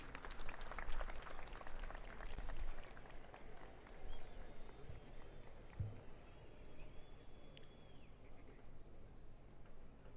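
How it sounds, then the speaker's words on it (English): A crowd applauds His Excellency at a Zambia Defence Force anniversary ceremony, a faint, distant, steady patter of clapping that continues for the whole stretch. "A round of applause once more for His Excellency"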